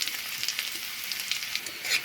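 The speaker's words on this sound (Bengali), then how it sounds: "ফোড়ন ভাজা হয়ে গেছে, এখন দেব একটা পেঁয়াজ কুচানো।" Chopped onion frying in hot oil with dry red chilli and bay leaves, a steady close sizzle with crackling bursts throughout, no voices.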